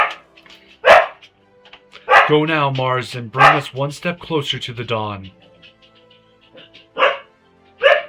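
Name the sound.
dog barking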